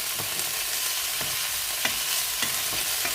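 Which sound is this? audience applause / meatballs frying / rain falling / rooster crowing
meatballs frying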